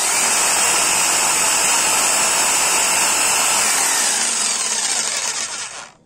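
A Bosch PST 650 jigsaw whines steadily through wood, loud and continuous with a bright high-pitched edge, then cuts off abruptly at the end.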